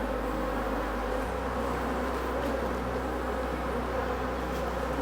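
Honey bees buzz in a dense, continuous drone while an aggressive hive is being split outdoors, the swarm sound steady and close with a low hum underneath.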